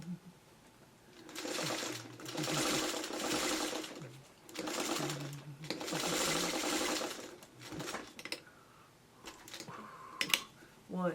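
A sewing machine runs in bursts while quilt blocks are pieced, a close, rapid stitching rattle rising and falling with short pauses, followed by a few light clicks.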